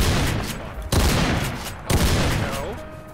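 Two loud, beefy shotgun blasts from a first-person shooter game, Black Mesa, each a sharp boom followed by a lingering tail, about a second apart, with faint game sounds in between.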